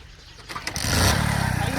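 A motorcycle is kick-started: a couple of soft thumps, then the engine catches around the middle and settles into a loud, close, steady rumble, with faint voices in the background.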